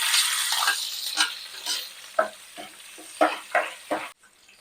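Chopped onions go into hot oil with pulao spices for a village-style chicken curry with tamarind leaves, giving crackling sizzles broken by stirring scrapes, loud at first and then in short bursts before stopping abruptly.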